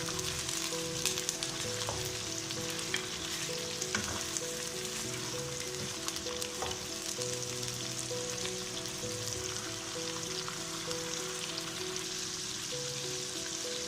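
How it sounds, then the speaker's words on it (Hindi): Goat meat browning in a pan, a constant, even sizzle and crackle with light stirring, steady and moderately quiet throughout, with no voices. "गोश्त हमारे इस तरह भून गया"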